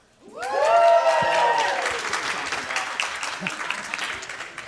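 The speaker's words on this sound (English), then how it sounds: "Obviously a very well-loved bunch from the applause." Applause from the audience at a CISO panel of a cybersecurity conference in Columbus, Ohio, a dense burst of clapping that swells quickly and then slowly fades, mixed with a short whoop and cheering.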